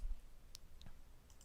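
A computer mouse clicks a few times, faint and close, during Siemens S7 PLCSIM and Factorio software work, with a quiet background hum and no talking.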